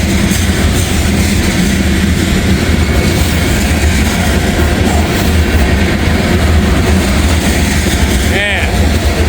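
Heavy freight train of grain or cement cars rumbling past very close, a loud continuous roar and clatter of wheels with a brief squeal near the end.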